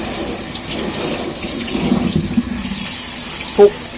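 Small whole chickens, nine bought for Korean ginseng chicken soup, rinsed under a running kitchen tap, giving a steady close splash of water with a brief louder gush near the end.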